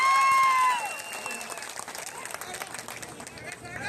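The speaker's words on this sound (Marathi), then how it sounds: "नितेश राणेंचं टाळ्या वाजवून जरा अभिनंदन करा." A rally crowd applauds Nitesh Rane, dense clapping and crowd noise rising near the start and continuing steadily throughout, with a loud tone briefly sounding over it early on.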